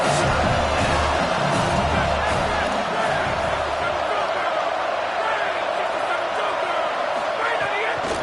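A stadium crowd roars continuously during a simulated college football video game matchup between Arkansas and South Carolina, forming a loud, steady wash of cheering that runs throughout.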